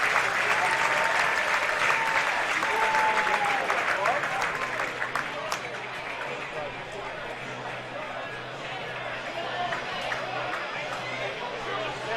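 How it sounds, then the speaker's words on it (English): Standing ovation from baseball fans at a Class C championship game, steady crowd applause with some chatter filling the whole stretch, easing slightly in loudness partway through. "A standing ovation and some hat tips from the opposing fans as well"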